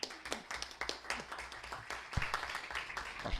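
Lecture audience applauding after a talk on copyright and criminal law, a faint, steady patter of many hands clapping for a few seconds.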